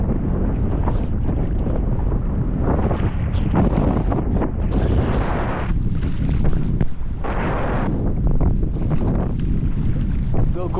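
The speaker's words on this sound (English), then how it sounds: "I'm at the point of where the waves are breaking." Roaring surf and breaking waves on a tsunami-struck island in a video game, a loud continuous wash of water with gusty wind buffeting throughout.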